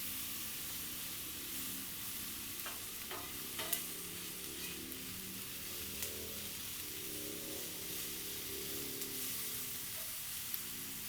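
Peppers and onions sizzle on a Blackstone 36-inch griddle while fajitas cook, a steady moderate hiss with a few metal spatula clinks and no voices.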